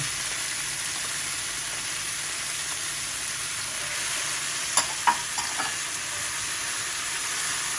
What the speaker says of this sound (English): And stir it around, then add the vinegar.